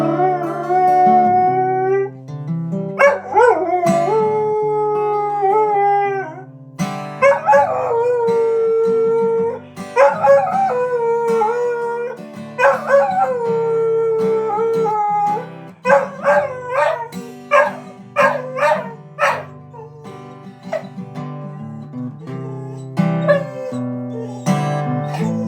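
A dog howls in long, wavering, pitch-bending cries interspersed with sharp yips and barks, loud and close, continuing for many seconds in a lively, excited rhythm.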